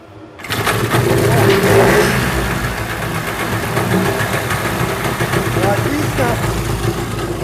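A small outboard boat motor runs steadily and loudly with a throbbing, rattling tone, holding an even idle throughout after starting abruptly.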